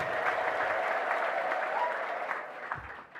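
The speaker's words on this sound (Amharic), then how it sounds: "አጨብጭቡ በጌታ ኢየሱስ" A church congregation claps together in a dense, sustained burst of applause during an Ethiopian sermon and deliverance service, loud at first and slowly thinning toward the end.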